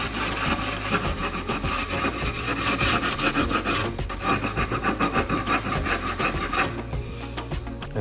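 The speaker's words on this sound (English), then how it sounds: "sand it down with, I like to use a real heavy grit initially, just to get the edges off" Heavy-grit sandpaper rubbing along wooden edge banding, a steady rapid back-and-forth rasping at close range, continuous and alone without any voices.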